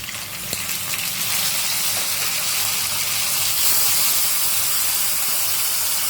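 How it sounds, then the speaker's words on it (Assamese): Chopped tomatoes go into a pan of browned fried onions, setting off a loud, steady hissing sizzle of steam and spitting oil that holds constant throughout, up close and without speech. "এতিয়া ইয়াতে আমি দিব লাগিব কাটি থোৱা বিলাহীখিনি"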